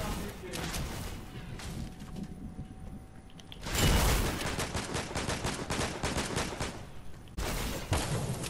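Video game gunfire crackles in dense, overlapping bursts of rapid shots that swell louder at times, with talking mixed in among the shooting.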